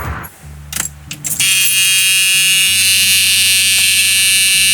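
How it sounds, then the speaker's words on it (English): Original warning buzzer in a Cadillac Seville, a few short clicks and rattles followed by a loud, steady electronic buzzing tone that holds on continuously, heard up close. "I changed this buzzer sound to the original one again"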